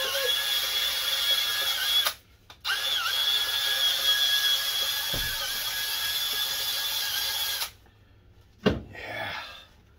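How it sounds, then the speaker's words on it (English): A power drill spinning a scrubbing attachment for cleaning whirs with a steady, high-pitched whine for several seconds. It cuts out briefly, runs again, then stops, followed by a couple of clunks and some rustling. "I trust my drill."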